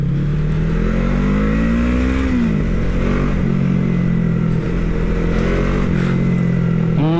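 FKM Falcon X400 motorcycle accelerating in first gear on a test ride: a loud, close engine drone rising in pitch as it revs, dipping at gear shifts, with no talking.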